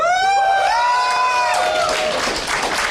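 A full studio audience at a StarCraft 2 tournament in Cologne cheers and whoops loudly and continuously, with rising shouted voices over a broad crowd roar that swells toward the end.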